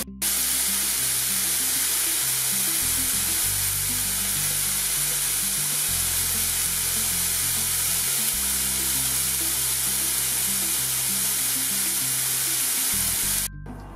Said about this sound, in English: Just frying off some mushrooms to put in at the end of the cook.